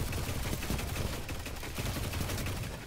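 A Loquitor IV auto rifle fires in the Destiny 2 Crucible, heard as a loud, dense, rapid stream of shots that runs almost without a break.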